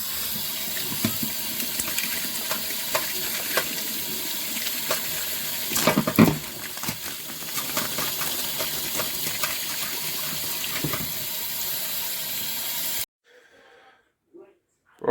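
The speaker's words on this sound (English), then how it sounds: "I'm gonna put the stuff in the sieve and waft it under the tap" Tap water gushes steadily into a sink as metal detecting finds from an estuary and beach, including lead fishing weights, are rinsed in a sieve, with occasional clinks, before the flow shuts off and near-silence follows.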